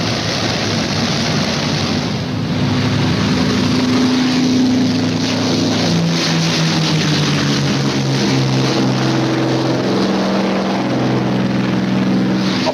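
WWII fighter plane propeller engines warming up: a loud, continuous engine roar that holds steady throughout, with shifting tones as the revs rise and fall.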